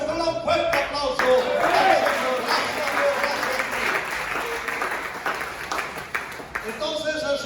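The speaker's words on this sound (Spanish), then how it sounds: "Con un fuerte aplauso." Loud applause from a church congregation at a Caribbean revival rally, steady clapping mixed with voices and shouts throughout, slightly easing toward the end.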